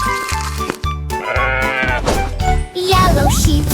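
Sheep bleats sung into a children's nursery rhyme song, several rhythmic baa-like calls over bright music with jingling tones, loud and upfront.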